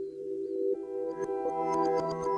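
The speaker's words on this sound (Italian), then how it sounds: "Questo è il suono di un buco nero in fusione" The sonified gravitational-wave signal from two black holes merging about 1.3 billion years ago plays as steady tonal hums that thicken into a denser set of pitched layers, with faint ticking pulses, alone and with no voices.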